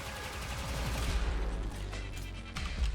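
Akstiletto Prime dual pistols firing in Warframe: rapid, dense volleys of close, loud gunshots pour out almost continuously, with a short break before firing picks up again.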